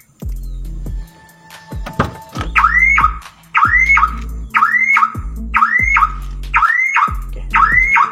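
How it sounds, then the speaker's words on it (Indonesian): A Daihatsu Ayla car alarm goes off with a faulty remote after being opened manually. It loops a loud chirping electronic tone with a thump at each cycle, repeating again and again without stopping. "alarm akan berbunyi terus, tidak henti-hentinya"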